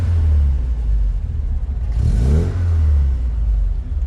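A 1979 Alfa Romeo Alfetta 2.0 four-decade-old engine idles with a low steady rumble, then briefly revs up and back down around the middle, settling back to a loud idle.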